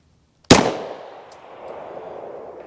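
A single sharp, loud 9mm pistol shot fires a 147-grain Winchester Elite Defender round, and the crack decays into a long echoing tail after a moment of silence.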